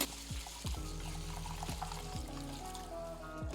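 Water poured and swirled over rice in a bowl while rinsing it for a lamb curry: a close, steady trickling and splashing with bubbly, gurgling tones, continuous and moderately loud, no talking.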